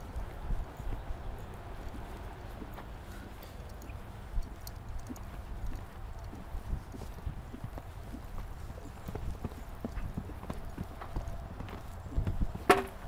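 A horse moves through a riding exercise under a coach, its hooves clip-clopping in a steady rhythm at moderate distance over a low background rumble, with faint snorts and no speech.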